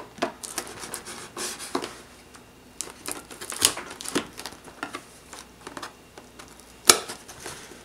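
A knife slices open the packaging of a fruit infusion pitcher, giving close, irregular scraping and tearing sounds with a few sharp clicks, one loud snap near the end, and no talking.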